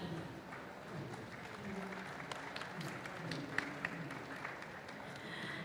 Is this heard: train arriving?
no